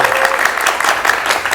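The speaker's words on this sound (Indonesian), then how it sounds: "Mahasiswa mana tepuk tangannya?" University students in a television studio audience clapping, a close, loud burst of applause with uneven pulses across a short span.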